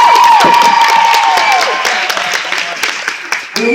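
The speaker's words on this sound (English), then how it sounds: "let's give the HA Nation a round of applause right now" A school audience applauds for a BMX stunt show, loud sustained clapping and cheering from a crowd, with a brief whistle-like tone at the start that fades as the applause carries on.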